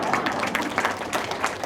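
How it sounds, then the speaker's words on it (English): An audience at a stage play applauds, a brief, dense burst of many hands clapping at an even level. "there's the applause break"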